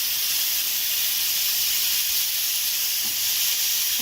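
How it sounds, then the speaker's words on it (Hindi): Chicken tikka pieces in a grill pan give a steady, loud sizzling hiss that holds evenly without pause. "जी ये मैं अब ग्रिल पैन में रख रही हूँ।"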